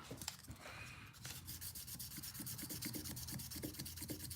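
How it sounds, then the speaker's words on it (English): Steady rasping strokes of sandpaper on a Case 1981 6265 folding hunter knife, wet-sanded with a light coat of 3-in-1 oil, a continuous close scrubbing rhythm with no talk. "Just kind of helps in the sanding process, like wet sanding a car, but you're doing it with oil."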